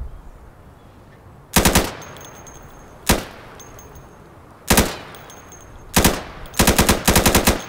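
Automatic gunfire in the tactical shooter Insurgency comes in short, loud, close bursts separated by pauses, the last stretch packing several rapid bursts together, each leaving a faint metallic ring.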